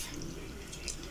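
Lukewarm water trickles and drips into bread dough in a kitchen, a soft, close liquid splash lasting about a second with no talk.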